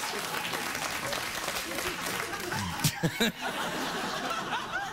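A late-night talk show studio audience claps steadily in a dense wash of applause, with a few chuckles and a couple of brief louder bursts near the middle.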